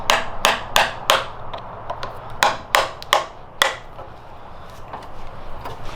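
Metal-on-metal hammering with a screwdriver used as a makeshift hammer while working on a Subaru WRX engine: about ten sharp, ringing strikes in uneven bursts, close and loud, with short pauses between groups.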